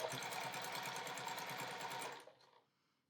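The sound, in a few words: sewing machine sewing quarter inch seam on quilt squares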